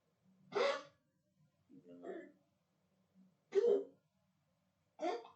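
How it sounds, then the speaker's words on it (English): Four short, harsh hacking bursts spaced about a second apart, a dog's coughing fits heard close in an otherwise quiet room. "My dog is coughing."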